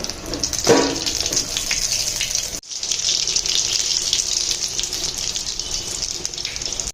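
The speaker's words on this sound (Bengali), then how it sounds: "এক পাশ ভাজা হয়ে গেলে অপর পাশ সোলটা নিতে হবে" Aloo paratha sizzles steadily on a hot pan over medium-high heat, a continuous hissing fry with a soft clatter near the start and a brief break midway.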